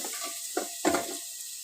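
Grated, squeezed radish goes into potatoes frying in a pan and gets stirred, a soft sizzle broken by two or three quick scraping stirs, close and moderately quiet.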